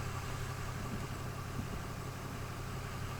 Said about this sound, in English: The first cold start with the deleted truck.